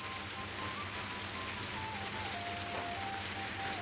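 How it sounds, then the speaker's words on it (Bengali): Steady rain falls outside, a dense, even wash of hiss with no voices over it for the whole stretch. "ওই যে আবার নামছে বৃষ্টি"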